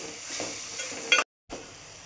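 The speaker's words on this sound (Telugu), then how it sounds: "ఆనియన్స్ కొంచెం ఫ్రై అయ్యి కొంచెం పసుపు, అల్లం వెల్లుల్లి పేస్ట్ అన్నీ ఇలా మిక్స్ చేసుకోవాలి." Onions frying in a pan with turmeric and ginger-garlic paste for an egg curry, stirred with a spoon; a steady sizzle with scraping strokes, a louder clatter, then a brief gap before the frying resumes.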